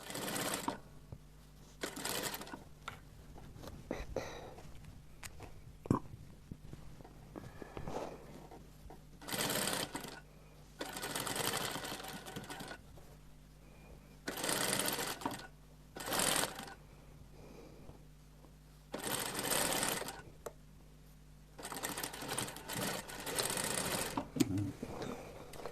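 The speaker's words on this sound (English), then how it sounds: "I'm sewing with 1/2 inch." A sewing machine stitches a half-inch seam in repeated bursts of rapid mechanical chatter, several runs lasting one to two seconds each, close by, with quieter handling gaps between them.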